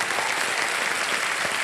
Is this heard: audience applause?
yes